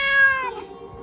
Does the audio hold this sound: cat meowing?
yes